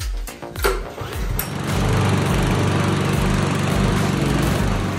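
An Oleo-Mac GV53TK petrol lawn mower that has sat unused for a long time starts after a few uneven bursts, then settles into a loud, steady, close engine drone.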